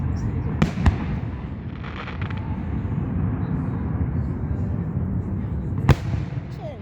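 Fireworks at a Fourth of July show over Lake Siskiyou near Mount Shasta: sharp distant booms near the start and end crack over a steady crowd murmur and rumble, heard from among spectators.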